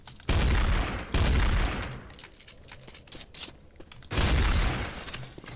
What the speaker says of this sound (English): Shotgun. Chrome shotgun.